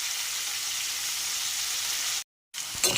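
Potato pieces sizzle in hot oil during cooking of an aar fish curry: a constant, fairly soft frying hiss, broken by a brief moment of total silence before the sizzle resumes.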